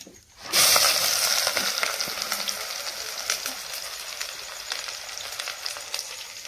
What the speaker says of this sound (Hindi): और इधर देखिए तवा भी चढ़ा दिए हैं। और प्याज लहसुन सब अभी भूंज रहे हैं।